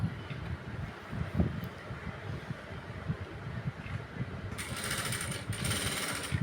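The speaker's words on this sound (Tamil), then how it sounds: "இப்போ இதில் ஒரு அமுக்கு தையல் போட்டுக்கோ." A sewing machine stitches a pressing seam along a blouse border, giving a steady, rapid low mechanical rattle throughout, with a brighter whirring burst near the end and no talking.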